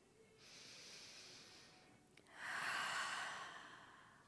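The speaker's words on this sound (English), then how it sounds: "Breathe here." Slow, deep yoga breaths close to the microphone, a long airy inhale followed after a short pause by a fuller, louder exhale, quiet and alone.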